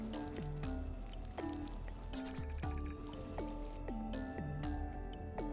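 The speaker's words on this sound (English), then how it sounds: "Man, I throw water on you." Water poured onto plants in an indie horror video game: a steady liquid splashing bed with repeated cartoonish dripping, plopping tones falling in pitch, continuous and fairly quiet, with no talk.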